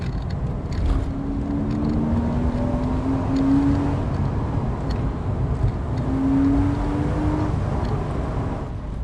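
A 2000 Porsche 986 Boxster S flat-six pulls hard in second gear beside a stone wall, its rising engine note sweeping up twice over a steady loud drone, with no talking.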